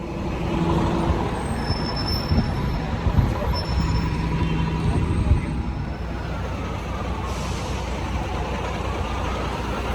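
A hiss of air brakes rises over a tour bus's loud engine and traffic rumble as it comes to a stop on a Manhattan street, while a recorded voice speaks.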